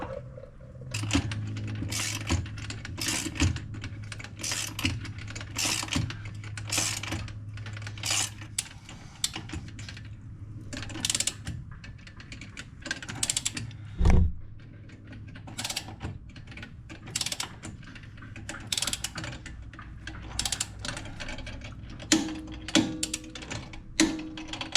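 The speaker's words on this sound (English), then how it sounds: "Obviously I'm using a ratchet and it is a 19 millimeter." A ratchet clicks rapidly as it tightens a 19 mm bolt on the front passenger-side piggyback shock mount of a Falcon 3.3 SP2 install, with bursts of metallic ratcheting, short pauses and a steady low hum underneath.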